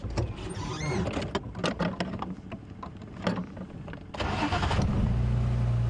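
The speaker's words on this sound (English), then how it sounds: "Let the engine run for a few seconds." A safari vehicle on a wildlife drive cranks with a rattling burst of starter clicks, then the engine catches and settles into a steady, close idle humming alone for the last couple of seconds.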